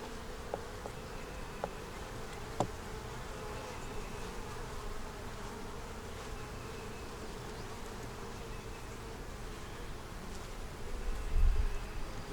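Calm honey bees hum steadily around a honey-bound hive, a soft continuous buzz heard up close with no voices.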